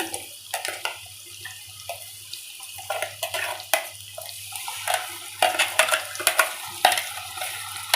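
Ginger and tomato paste frying in a pan while a spoon stirs it, giving repeated clinks and scrapes over a soft sizzle, with no talking.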